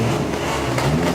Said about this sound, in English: I think the camera unintentionally provoked a revving contest.